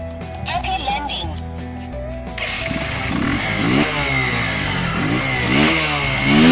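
Bajaj Pulsar motorcycle with an exhaust modified to sound like a Harley-Davidson, idling and then revving in repeated rising bursts, loud and close, with someone talking over it.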